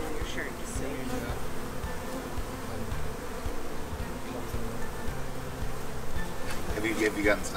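Honey bees drone around beehives in a constant close buzz, with individual insects passing near now and then and no voices.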